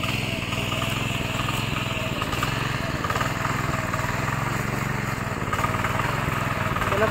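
A tractor ploughs a farm field, its engine chugging in a steady continuous drone with a fast pulsing beat, fairly close throughout.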